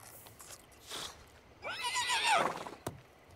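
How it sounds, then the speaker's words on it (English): A horse in The Sims 4 video game lets out a bright, descending whinny at moderate volume, followed by a short snort, with soft thumps just before. "You wanted to feed the little horse?"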